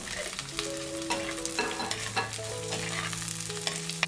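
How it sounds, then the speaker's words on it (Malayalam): Small onions and green chillies sautéing in a pan for a coconut-paste dried fish curry, a steady close sizzle broken by repeated scraping stirs, with faint tonal hum lines running underneath throughout. "ഉള്ളി ചേർത്ത് നല്ലതുപോലെ വഴറ്റിയതിന് ശേഷം ഇതിലേക്ക് പച്ചമുളകും കൂടെ ചേർത്ത് വീണ്ടും വഴറ്റി കൊടുക്കാം"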